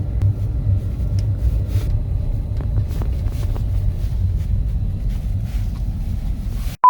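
A car rolls along its lane past a farmhouse renovation site crowded with trucks and work vehicles, heard from inside as a constant low road rumble with light wind buffeting and a few faint clicks, no voices.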